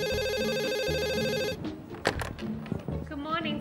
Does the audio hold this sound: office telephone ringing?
yes